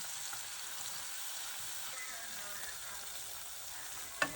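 Mustard spice paste ground with cumin frying in mustard oil with black cumin seeds, green chilli and turmeric: a steady, soft sizzle runs throughout, with a brief clatter at the very end.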